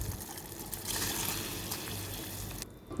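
Soaked basmati rice, drained well, goes into boiling water in a pressure cooker as a steady close splashing and trickling wash that ends abruptly.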